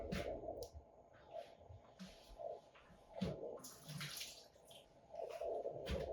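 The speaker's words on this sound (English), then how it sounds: "Drain our burrata." Liquid drained off burrata cheese, with quiet intermittent splashing and trickling water sounds in short bursts, faint and close by, no talking.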